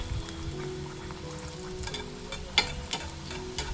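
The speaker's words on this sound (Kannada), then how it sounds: "ಇವಾಗ ಒಂದೊಂದಾಗಿ ಇದ್ರೊಳಗಡೆ ಈ ಥರ ಪುರಿನ ಕರ್ಕೋಬೇಕು." Puris fry one at a time in a shallow layer of oil, giving a steady soft crackle and sizzle with a few brief sharper pops, close and fairly quiet, with no talking.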